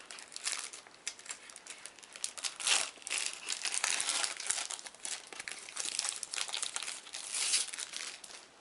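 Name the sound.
opening a World of Warcraft card deck package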